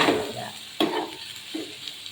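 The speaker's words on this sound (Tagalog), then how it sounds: "Igisa na natin siya." Bitter gourd (ampalaya) is sautéed in a pan, with a brief close sizzle and a few quick scraping stirs over about two seconds.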